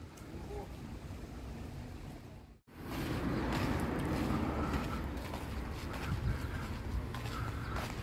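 Wind and surf wash across a beach near Sharm el Sheikh, Egypt, in January. A steady roar of wind and waves drops out briefly, then returns fuller, with some faint voices underneath.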